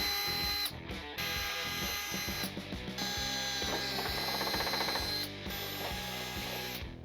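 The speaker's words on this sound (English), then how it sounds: "on the top 2 holes, we're using a 7/64 drill bit" A power drill bores holes with a 7/64 bit into a Cherokee XJ rear fender during a flare install, several close, loud bursts of whirring separated by short pauses.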